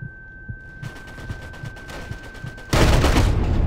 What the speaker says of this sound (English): I hear him shooting, Glacier.